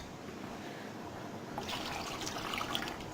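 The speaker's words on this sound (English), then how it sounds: "And then now we're about to pour water into here." Water pours into a steamer pot for steaming rice, a soft, faint trickle that grows into a fuller splashing fill about halfway through, close by with no voices.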